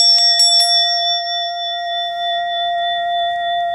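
A bell rings out clearly, struck a few quick times at first and then left to sustain, its pure tone lingering and fading slowly on its own in a quiet space.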